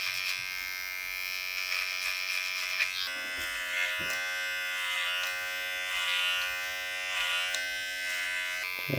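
Electric hair clippers buzz steadily and close up while cutting a taper into a haircut, a continuous humming drone with slight shifts in pitch as the blades move through the hair, with no talking over it.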